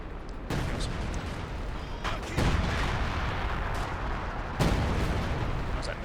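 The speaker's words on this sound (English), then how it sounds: "Was that major artillery, I guess?" Artillery fire in the video game Company of Heroes 2, with heavy booming impacts landing in several bursts over a constant dense battle rumble, fairly loud and close.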